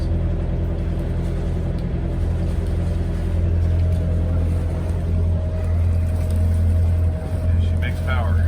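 The inboard engine of a 1995 Beneteau First 42S7 sailboat running under power near 2,000 RPM, a steady low droning rumble throughout with faint background sounds.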